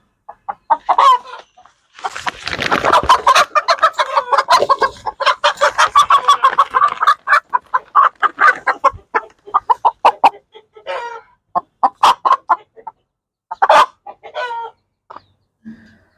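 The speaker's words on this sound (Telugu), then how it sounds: "పెట్ట" A hen clucks repeatedly in short bursts, with louder squawking cackles early on, close by with chicks and with no one talking.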